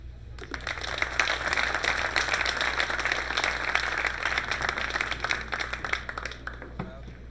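Crowd applause and cheering at a 10-ball pool championship semifinal, a dense, steady wash of clapping that carries through the whole stretch, with a low constant hum underneath.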